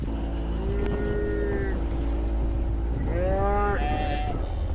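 Cattle on a ranch moo twice, a drawn-out low call followed by a second longer, wavering moo, heard over a steady engine rumble.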